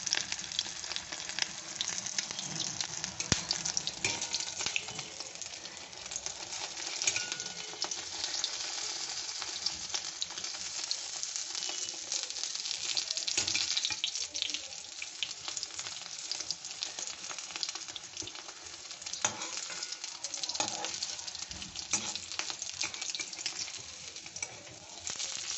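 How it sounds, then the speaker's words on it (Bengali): Kabab snacks sizzle in a pan of oil, a steady dense crackle that lasts throughout, with occasional scraping stirs as the pieces are turned. "এইরকম একটু ঘুরিয়ে ঘুরিয়ে ভেজে নিতে হবে।"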